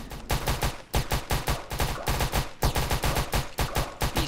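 Rapid automatic gunfire in a Roblox game, dense bursts of loud punchy shots firing in quick succession with only short breaks.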